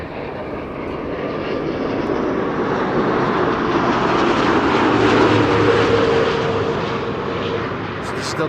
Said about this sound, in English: Delta Airlines Flight 164 arrived from Minneapolis, Minnesota